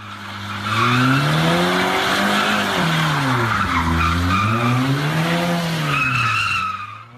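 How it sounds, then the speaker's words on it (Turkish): A luxury car drifts on Bağdat Caddesi, its tires squealing loudly and continuously for about six seconds, the pitch sliding up and down over the engine roar, with no talking. "lüks aracıyla drift yapan sürücü böyle görüntülendi"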